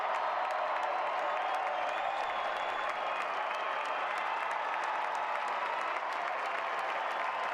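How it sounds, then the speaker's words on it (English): A stadium crowd in Carson, California applauds Wrexham's starters as they leave the pitch during an MLS Next Pro Invitational match against LA Galaxy II, a steady, distant wash of clapping with light cheers. "the starters are coming off for Wrexham to massive applause here in California"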